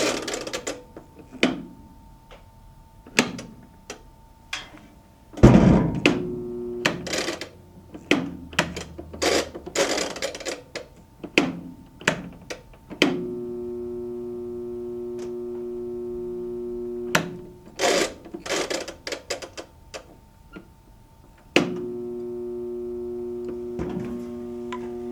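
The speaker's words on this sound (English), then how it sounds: "Sounds bad motor, guys." A Speed Queen AWN432SP111TW01 washing machine with a failing motor runs in irregular bursts of rubbing, grinding mechanical noise, some spells carrying a steady electrical hum, broken by short clunks and quiet gaps.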